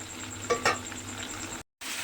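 Malabar spinach cooking in fish oil in a pan makes a low steady sizzle, with a couple of brief stirring scrapes near the start, close but quiet, and a short gap of silence near the end.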